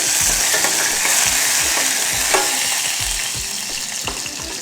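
Chana dal, urad dal and garlic fry in hot oil with a loud, close, steady sizzle, while a spoon stirs them in a regular rhythm of scraping strokes.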